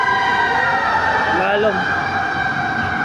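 A fire truck siren wails loudly in the street, its rising and falling tone sweeping steadily past, while a person speaks briefly over it.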